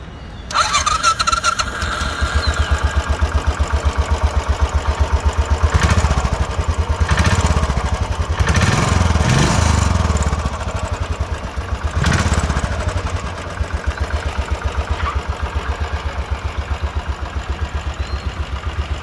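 A 2017 Royal Enfield Classic 500 single-cylinder motorcycle with low mileage idles nearby with a steady, rapid thumping beat, a few brief blips of the throttle swelling over the loud, continuous engine note.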